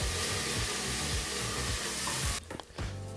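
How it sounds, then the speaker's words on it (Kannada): Onion and tomato frying in a pan for kallu gojju, a loud steady sizzle with scraping stirs, then a sudden drop near the end before the hiss picks up again. "ಟೊಮೊಟೊ ಹಣ್ಣು ಸಹ ಫುಲ್ಲು ಸಾಫ್ಟ್ ಆಗಬೇಕು ಅಲ್ಲಿವರೆಗೂ ನಾವು ಫ್ರೈ ಮಾಡ್ಕೋಬೇಕಾಗತ್ತೆ"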